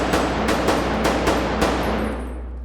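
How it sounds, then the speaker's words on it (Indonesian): Rapid bursts of gunfire in a film, five or six sharp cracks in quick succession with a lingering echo fading away at the end. "serentetan tembakan yang tepat kena di sasaran pada target"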